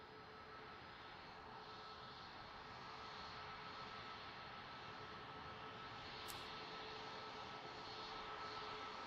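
Boeing 737 MAX 10 airliner in United livery at Boeing Field, a steady broad jet-engine roar heard from a distance without any voices.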